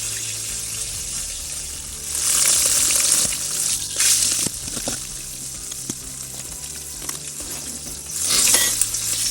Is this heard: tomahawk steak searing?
yes